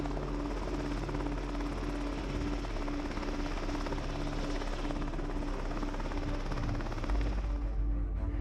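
A Black Hawk helicopter hovers close by during tree removal, lifting cut branches, its loud rotor chop pulsing steadily under a continuous turbine roar, with a deeper thump surging near the end.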